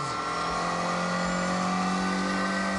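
A small twin-cam 1.6-litre car engine revs hard and high, a buzzy, sustained whine holding a steady pitch, close and loud.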